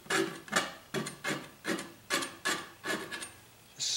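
A tool scraping wet paint across a landscape painting of aspens in shadow, eight or nine rhythmic rasping strokes in a steady back-and-forth pattern, close and clear with no talking.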